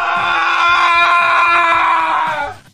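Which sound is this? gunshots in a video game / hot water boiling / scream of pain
scream of pain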